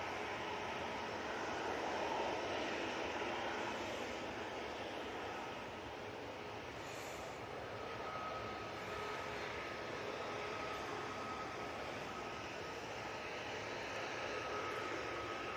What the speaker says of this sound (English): We've got the Vueling A321 also crossing